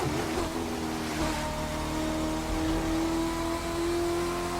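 Corvette C6.R race car in The Crew 2 on a wet touring-car track, its engine droning steadily at high revs with a sustained tonal whine and road and spray noise throughout, no voices.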